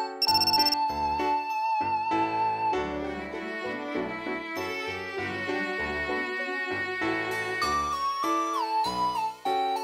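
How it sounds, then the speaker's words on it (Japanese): A telephone rings in the visual novel game G-senjou no Maou, its repeating electronic ringtone melody sounding loud and steady over the game's tonal background music, with no talk. "また電話だ。"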